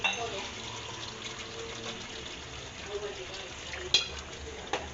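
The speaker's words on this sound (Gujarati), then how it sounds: "હવે જીરે પાણી નાખી દે" Water is added to a pan of fried potatoes cooking for dum aloo, raising a continuous hiss and sizzle close by, with a few sharp clicks and knocks toward the end.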